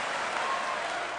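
A round of applause from an audience, played back within a radio broadcast, fills the whole moment as a steady, dense wash of clapping at moderate loudness with no talk over it.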